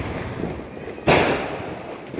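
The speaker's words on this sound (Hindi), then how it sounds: "यहाँ पे पापा एक पटाखा जला रहे हैं, देखते हैं ये क्या करता है।" A Diwali firecracker lit during a home celebration goes off as one sharp, loud bang with a brief burst of noise, heard over a dull outdoor background.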